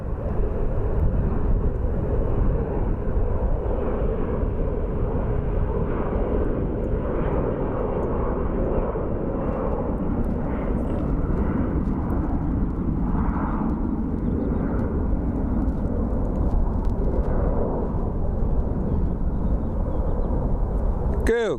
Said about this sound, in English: let's catch this Embraer departing